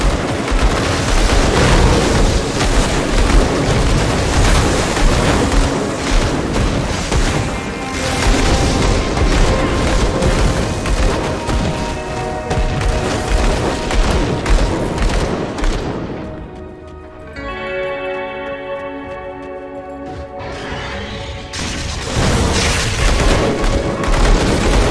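Grim Dawn Definitive Edition combat on Xbox Series X, a sustained barrage of rapid gunfire and booming explosions, loud and dense, briefly easing into a ringing lull before the firing resumes.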